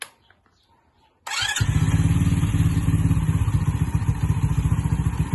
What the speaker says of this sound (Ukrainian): Тепер потрібно прогріти мотоцикл 1-2 хвилинки, щоб масло розтеклося по двигуну.